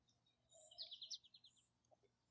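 Songbirds chirp outdoors on a Saturday morning, a short run of bright, rapid tweets and trills at moderate distance, followed by a quiet pause and a brief louder sound at the end.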